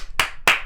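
Two sharp hand claps, evenly spaced, loud and close, given as a short round of applause among friends recording a casual anime review podcast.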